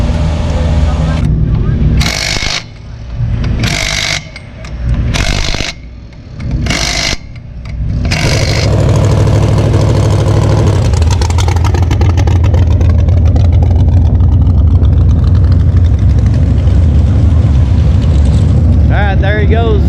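Race car engines roar continuously at a track, a steady loud drone that builds after several seconds of speech-like bursts, with rising pitch sweeps near the end as cars accelerate past.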